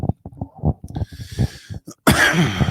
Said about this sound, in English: I just totally coughed right into the mic.